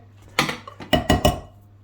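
Apple muffin batter stirred in a bowl, heard as a few sharp clinks and scrapes of a utensil against the bowl in quick succession, close and fairly loud, with no talking.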